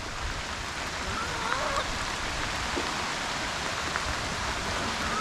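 Steady rain falls in a continuous broadband hiss in a village in winter, with occasional faint patters and drips standing out against it; no one speaks.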